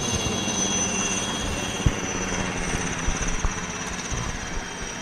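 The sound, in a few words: fighter jet flying overhead near an air force base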